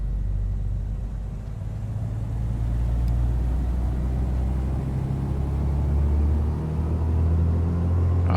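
Beechcraft Duke twin piston engines in a flight simulator throttling up, a loud deep steady drone that rises gradually and fills the whole stretch, no voices over it.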